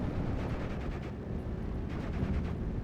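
Rocket strike explosions in the WWII strategy game Steel Division 44, a dense continuous rumble of booming blasts with sharper bursts near the start and toward the end, loud and without speech.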